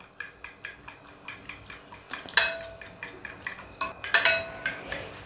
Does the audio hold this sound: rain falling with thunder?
no